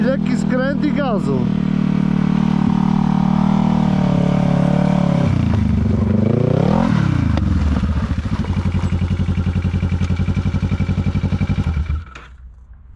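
Motorcycle engine revs hard and close while leaning into a slight turn, a steady high drone that dips, climbs again and settles into a throbbing run before cutting off at the end.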